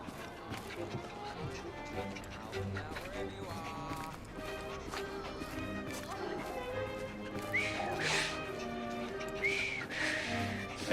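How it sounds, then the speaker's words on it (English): A character in Assassin's Creed Syndicate whistles a few bright, wavering notes near the end, set against busy game ambience with what sounds like horse hooves and background music. "Oh, yes. I've just learned to whistle."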